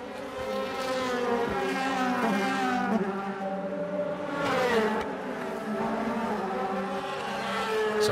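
Onboard engine of a 2014 DTM race car at the Norisring street circuit, a loud, continuous rasping howl whose pitch sweeps up and down through gear changes, with no voices.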